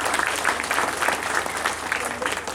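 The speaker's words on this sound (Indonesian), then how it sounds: "Jadi tepuk tangan untuk semuanya." Steady, fairly loud applause from a crowd at a traditional Dolalak dance festival results announcement, dense clapping holding evenly throughout with no pauses.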